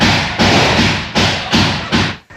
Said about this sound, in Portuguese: De dentro de casa, os moradores flagram tiroteio.